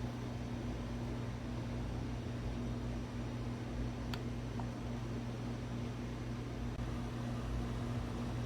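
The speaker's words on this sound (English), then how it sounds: "I am going to press the Woodfire flavor technology smoke button" A Ninja Woodfire grill runs with its smoke function on, giving a steady low mechanical hum and fan-like whir at a constant level, with a brief faint click partway through.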